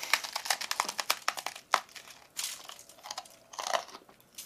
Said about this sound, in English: Let's just take a bite of this blistered out ice cream.